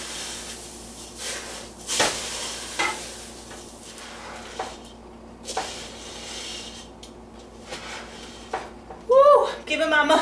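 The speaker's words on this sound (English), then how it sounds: "stir it, because it is very thick, hard to stir" A thick, sticky Scotcheroos mixture of cereal and sugar is stirred in a pot, giving scraping, dragging strokes at an irregular rhythm, close and moderately loud, with a brief high clinking near the end.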